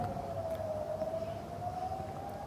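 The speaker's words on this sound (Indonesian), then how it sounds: "sirene peringatan serangan Iran terus berbunyi tanpa henti." A distant air raid warning siren in Eilat, sounding for Iranian attacks, holds a long, steady wail that drifts slightly in pitch, continuous and fairly faint over a low background rumble.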